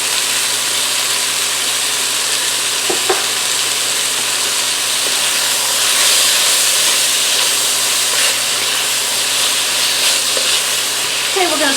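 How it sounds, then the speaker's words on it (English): Fajita vegetables and chicken sauté in a skillet, producing a loud continuous sizzling hiss that swells slightly midway, with a few faint utensil clicks. "we're going to saute this down for about 4 to 5 minutes until they're nice and soft and a little brown"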